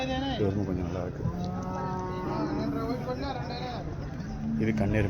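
Water buffalo mooing at a busy buffalo market, several long low lowing calls repeating close by over a steady murmur of crowd chatter.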